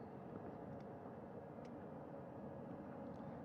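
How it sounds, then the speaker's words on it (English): A helicopter flies back toward a recovery ship at sea after an Orion capsule splashdown, a steady, even rotor-and-engine roar that holds at a moderate level throughout with no voices. "That second helicopter now making its way back over to the front porch."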